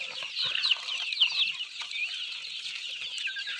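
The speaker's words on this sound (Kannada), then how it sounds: "ಇವಾಗ ನೋಡ್ತಾ ಇರುವಂಥದ್ದು ನಾವು ಸಾಕಿರುವಂತಹ ನಾಟಿ ಕೋಳಿಗಳು ಭಾಳನ ಯಾವ ರೀತಿ ತಿಂತಾ ಇದ್ದಾವೆ" Native country chickens cluck and chatter continuously while feeding at a rural farm, several birds close by in a busy, overlapping stream with no talking.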